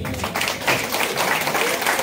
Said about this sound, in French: Je demande que tout le monde applaudisse Jules Ngom depuis Dakar.